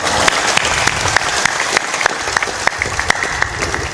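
Audience at a spiritual discourse breaking into loud, sustained clapping, many hands beating together in a dense continuous roar with sharp individual claps standing out.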